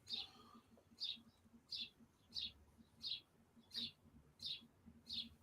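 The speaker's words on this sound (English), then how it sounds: "If you can hear the birds." Outdoor wild birds call just beyond a window, seven or eight brisk high chirps repeating at a regular pace, soft and somewhat distant above a quiet low room hum.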